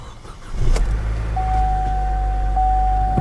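A car engine idles steadily just after being started with the key, a low close rumble with a faint continuous dashboard chime tone over it.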